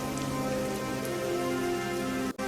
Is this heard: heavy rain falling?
yes